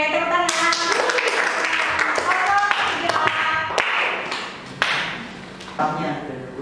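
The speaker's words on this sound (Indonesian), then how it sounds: "Oke, tepuk tangan." A classroom of students clap their hands in response to a teaching practice lesson, sharp individual claps scattered irregularly and fairly near, with a teacher's voice talking over them.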